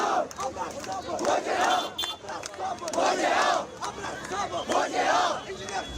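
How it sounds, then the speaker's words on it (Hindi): Supporters at an election campaign rally in Baramulla, Kashmir chant loudly in unison, with the crowd's voices surging in rhythmic waves every second or two and a constant roar between them. "आतंक के आरोपों के तहत यूएपीए में बंद राशिद के लिए भारी भीड़ जमा हो रही है"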